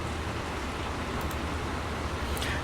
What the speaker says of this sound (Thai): อาจจะมีเสียงฝนเข้ามาหน่อยนะครับ เพราะว่า ที่อัดอยู่ฝนมันตกนะ